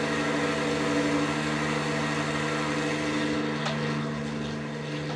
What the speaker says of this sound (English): I absolutely love the sound of this plane.